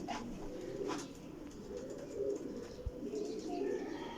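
Breeder pigeons coo in soft, low, rolling phrases, repeated several times at moderate distance and fairly faint, with a few light clicks and rustles between calls and no speech.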